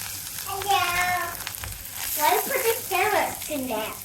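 Carrot and cabbage pieces sizzle in hot oil in a pan, a continuous close frying hiss, while a voice talks over it.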